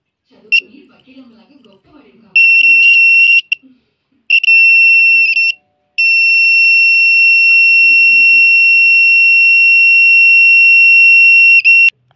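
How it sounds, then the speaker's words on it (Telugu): A small electronic buzzer under test for loudness: a voice speaks briefly, then two short shrill buzzes sound, followed by one long continuous piercing tone that cuts off abruptly. "ఒక బజర్ సౌండ్ని ఇంక్రీజ్ అయితే చేస్తాం"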